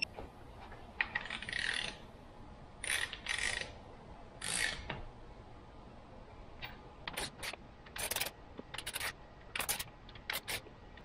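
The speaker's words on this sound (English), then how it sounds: "If you're using one of these torque wrenches for the first time, go slow." A torque wrench tightens cylinder head bolts on a Subaru Impreza 2.5L engine, giving sparse, faint metallic clicks and short ratcheting bursts, with a quicker run of clicks near the end.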